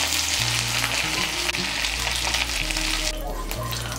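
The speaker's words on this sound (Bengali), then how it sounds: "আঁচটাকে মিডিয়াম করে পটলগুলোকে লাল করে ভেজে নিয়েছি" Pieces of pointed gourd (potol) fry in oil in a kadai over medium heat, a loud, steady sizzle that runs unbroken for the whole stretch with no talk.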